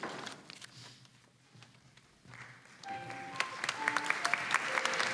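An audience at an awards ceremony breaks into applause that swells from quiet to fairly loud midway through and then carries on, with some faint tonal music mixed in.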